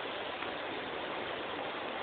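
Rising typhoon floodwater rushes in a steady, loud broadband roar that holds constant from start to finish with no pauses.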